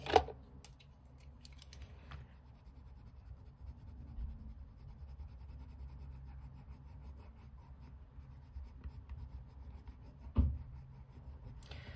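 Faint, soft scratchy rubbing of a colored pencil colouring and blending on a Stifflex paper pad, continuous and quiet with a few slightly louder strokes.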